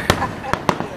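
Fourth of July fireworks and firecrackers go off in a quick series of about four sharp pops, fairly close and loud, with no voices over them.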